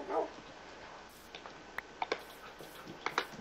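Tamed wolves acting as dogs in the Minecraft video game give a few short, quiet barks and yips, scattered irregularly over a faint, hushed background.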